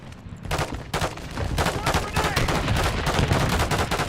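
Rapid automatic gunfire from Call of Duty Modern Warfare 3 after a brief quieter opening, then continuous loud bursts layered into a dense, close battle roar.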